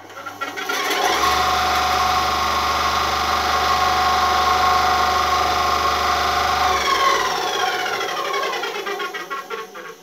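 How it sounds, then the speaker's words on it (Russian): Einhell TC-SB 200/1 band saw idling on a trial run with no cut, a steady motor hum with a low drone and a whirring blade, starting up after a second and running evenly, then winding down near the end. "Так, делаем пробный холостой запуск."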